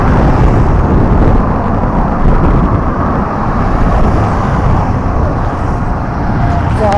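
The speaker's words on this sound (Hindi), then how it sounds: "नॉइज गाड़ियों की आवाज" Dense roadway traffic roar from passing vehicles at dusk, a steady loud wash of engine and tyre noise close by without pauses.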